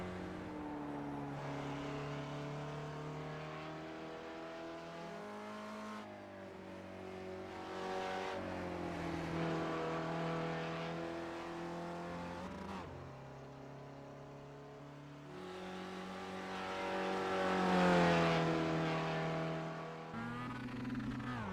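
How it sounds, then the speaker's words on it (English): A Spec Racer Ford race car in iRacing laps Okayama, its engine droning and rising through gears with repeated upshifts and lifts, steady and moderately loud with no talk. "this is one whole lap in Spec Racer Ford"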